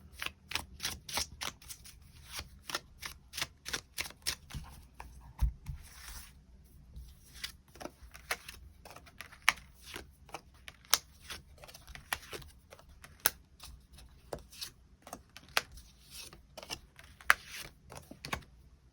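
Tarot cards are shuffled and drawn during a reading. Quiet, close, crisp flicks and taps come in a long irregular series, with no talking.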